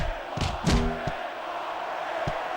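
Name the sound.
crowd cheering and chanting in wrestling video game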